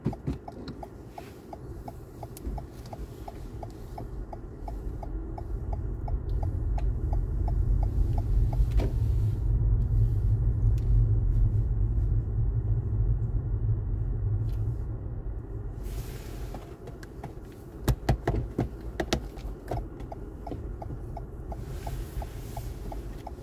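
A learner driver's car pulls away and drives off during a driving test, a low engine rumble that swells in the middle and settles again, with a steady ticking indicator and a few knocks near the end.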